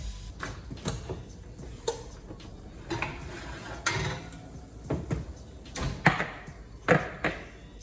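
Kitchen clatter as an oven door opens and a tray of baked muffins comes out, a string of close knocks, clicks and metallic clanks scattered over about eight seconds with no talking.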